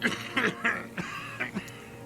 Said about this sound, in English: His hand shakes and he breaks into a coughing fit.